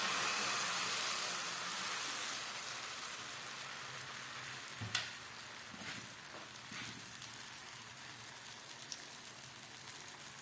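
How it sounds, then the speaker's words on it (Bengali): Vegetable dosa batter of rice flour, semolina and mixed vegetables hits a hot pan over low gas, giving a steady soft sizzle and hiss throughout, with a few small taps and clicks, no talking. "এই গুলে রাখা সমস্ত সবজি, চালের গুঁড়ো, সুজি দিয়ে যে মিশ্রণটা তৈরি করেছি সেটা দিয়ে দিচ্ছি"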